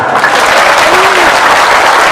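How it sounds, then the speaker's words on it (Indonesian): Loud, sustained applause from a large crowd at a religious dhikr assembly's groundbreaking ceremony in Brebes, Central Java, fills the whole clip without a break. "tepuk tangan."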